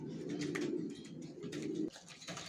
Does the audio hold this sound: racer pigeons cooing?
yes